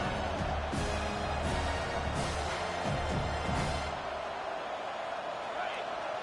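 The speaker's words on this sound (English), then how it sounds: "This crowd, full throat, splitting the eardrums" A stadium crowd roars in the College Football 25 video game during Auburn at Penn State, a loud continuous wall of cheering with a commentator talking over it.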